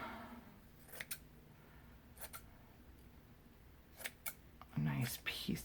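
Scissors snip lace in a few separate bursts of cutting, spaced across a quiet room, with a louder rustle of handling near the end.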